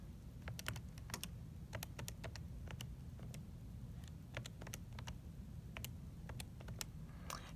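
Rapid, crisp clicks of a computer keyboard as an equation is typed into a graphing tool, in irregular bursts of keystrokes close by over a low background hum, with no speech.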